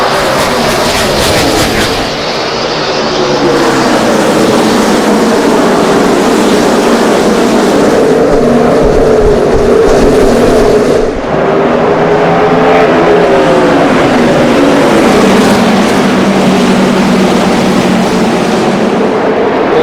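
NASCAR stock cars racing at Richmond make a loud, continuous engine roar, with pitch rising and falling as the cars pass and shift, under heavy track ambience.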